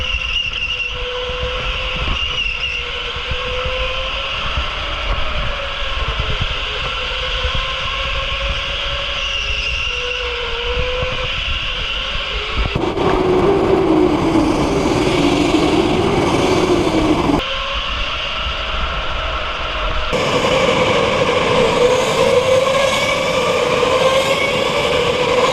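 Go-karts racing through the opening lap of the 2022 WAKA Grand Prix heard from on board, a steady high engine whine that rises and falls in pitch through gear and throttle changes, loud and continuous with brief shifts in tone.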